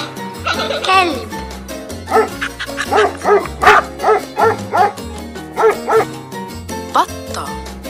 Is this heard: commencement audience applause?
no